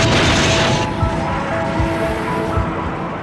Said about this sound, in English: President Truman dropped the bomb anyway.